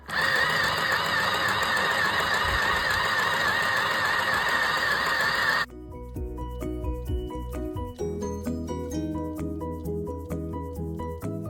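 Singer mini handheld sewing machine stitching fabric: a loud steady mechanical whir for several seconds, then a lower, rougher buzzing run with rapid needle ticking, close up.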